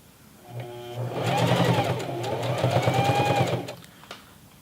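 A sewing machine fitted with denim needles stitches the leg hem of Levi's 550 jeans, a steady close whirring run of rapid needle strokes lasting a few seconds, starting and stopping cleanly with no talk.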